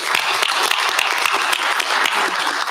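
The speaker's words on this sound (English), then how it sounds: "let's give our team a round of applause for what they did" An audience at a university board of supervisors meeting gives the team a round of applause, the clapping steady and full throughout with no talk over it.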